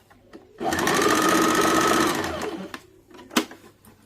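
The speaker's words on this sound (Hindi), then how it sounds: "अब हम लोग इसको सिल लेंगे।" A sewing machine runs in one steady burst of about two seconds, stitching a dart seam on a simple blouse, then stops, followed by a single sharp clack and faint handling sounds.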